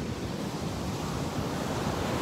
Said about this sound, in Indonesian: ombaknya tenang